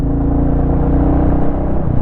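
Steady close exhaust thump of a Royal Enfield Classic 350 motorcycle, a dense low pulsing drone holding even for two seconds.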